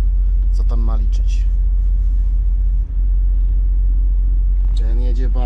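A truck crawling past very slowly during unloading in cold weather, a loud continuous low engine rumble that dominates throughout while someone talks over it.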